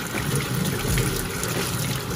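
Tap water runs steadily to rinse the threads of a paint sprayer, a close, continuous splashing trickle with no pauses.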